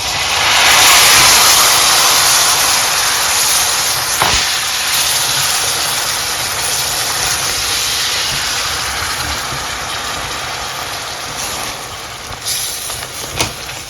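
Shrimp sizzling loudly in a hot pan of garlic butter, a steady broad hiss that stays strong throughout, with a few brief clinks and taps near the pan, no talking.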